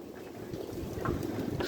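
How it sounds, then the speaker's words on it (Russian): Strong, squally wind roaring at a country dacha in a 26 m/s storm, a steady rushing buffeting against the microphone with gusty swells and no voices. "ветер везде шквальный"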